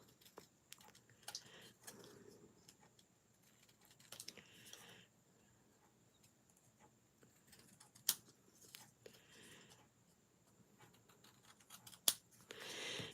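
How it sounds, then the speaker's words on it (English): Scissors snipping the sides off two punched-out paper pieces for an inked tile craft, a series of crisp close cuts with small rustles between and a few sharper snips near the end. "What I'm going to do is cut the sides off of them"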